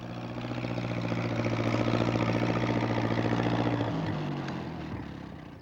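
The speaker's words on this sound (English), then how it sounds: "He's going to try to get through with his tractor." Alf's farm tractor engine running steadily, a loud droning idle with a strong low hum that swells and then drops in pitch near the end as it shifts or pulls away.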